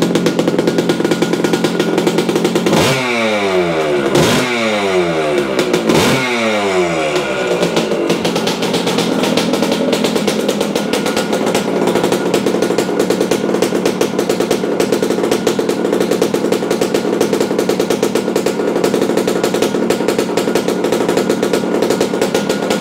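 A Yamaha AT-2 MX two-stroke motorcycle with a repaired CDI ignition and new silencer revs sharply three times in quick succession, then settles into a loud, steady, buzzing idle that runs on close by.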